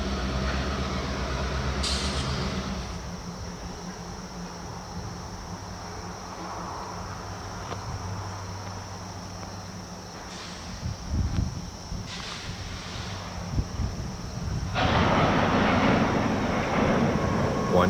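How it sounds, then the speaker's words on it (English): On the Housatonic Railroad, the NX-12 freight train shoves cars back into a siding to switch out empties. A low, steady rumble carries distant clanks and squeals, and the sound grows louder near the end. "the NX-12 shoves back into Miller's siding to begin switching out the empties prior"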